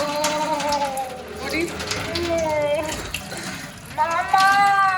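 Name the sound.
tap water running over a cut finger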